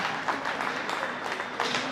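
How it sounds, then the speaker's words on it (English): A rodeo crowd at a calf roping event applauds steadily, a dense wash of clapping with some voices mixed in across a short stretch. "How about a round of applause for them?"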